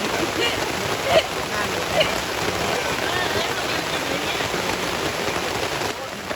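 Rain falls steadily on a mountain hiking trail, a continuous broadband hiss of drops on surfaces with a couple of sharper splats, close and fairly loud throughout, with voices faintly present.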